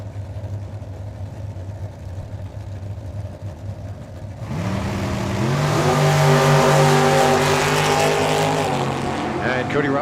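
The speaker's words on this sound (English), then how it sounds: "Brad in the dragster, Cody in the Camaro" A dragster and a Camaro launch down the drag strip at Tucson Dragway. A low idle rumble gives way to a loud, rising engine roar with climbing revving tones. Background crowd and announcer chatter sit underneath.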